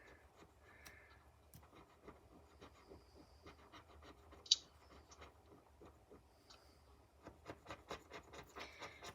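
A scratch-off lottery ticket being scratched by hand: a quiet, steady rasping rub with small ticks, growing busier and slightly louder toward the end.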